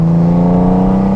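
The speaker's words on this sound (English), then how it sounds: "Some slip-on exhaust here from Shark Road Exhaust that gives you a little bit of sound and rumble" A Honda Goldwing motorcycle fitted with Shark Road slip-on exhausts, engine held at a steady loud rumbling rev close by, a deep throaty tone sustained through the whole short burst.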